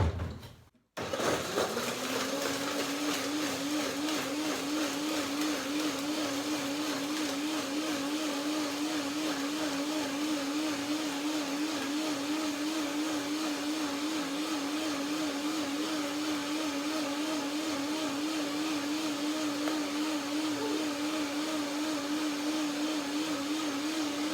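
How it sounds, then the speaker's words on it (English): A blender whirs steadily as it purées cashew cream with bananas and water, a loud sustained motor drone that starts abruptly after a brief moment and holds continuously to the end with no voices. "Blender dance."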